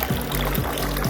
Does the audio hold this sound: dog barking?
no